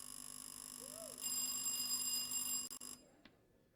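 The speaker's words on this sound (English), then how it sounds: "May I hear your bell, please, St. Louis?" An electronic quiz buzzer bell at a school science and maths contest rings out as a bright, sustained tone for under two seconds, then cuts off, leaving a faint short blip after it.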